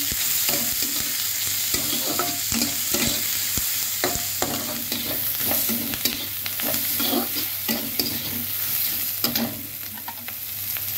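Chopped prawns, pre-rubbed with salt and turmeric, sizzle and fry in a hot pan while being stirred, a steady crackling hiss broken by frequent scraping clatters of the utensil.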